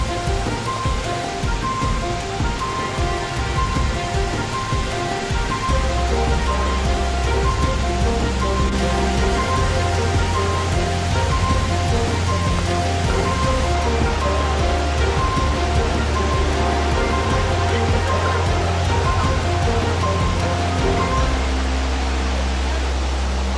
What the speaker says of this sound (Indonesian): Banyak wisatawan yang mendatangi air terjun ini untuk menikmati hempasan air terjun.